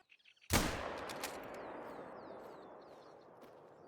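A single sharp .243 rifle shot fires in theHunter: Call of the Wild, a loud crack echoing outdoors that rolls away into a long fading tail, with faint birdsong around it.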